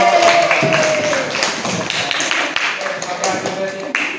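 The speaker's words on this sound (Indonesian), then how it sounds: "Selamat, tepuk tangan buat kelompok." Group of students clapping in a classroom after a sociology class game, a dense burst of handclaps that stays fairly loud and steady throughout with a few sharper taps, while a voice talks over it.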